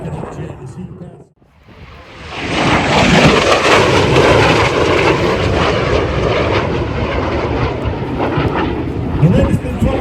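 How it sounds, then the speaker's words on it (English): A MiG-17 jet fighter with its afterburner lit passes at a military airshow, a loud broad roar that swells in after a brief dip and holds steady, with crowd and commentary voices underneath. "the MiG-17 afterburner flickers at the back of the jet as he passes"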